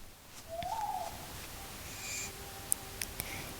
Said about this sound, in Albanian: Ui, bufi.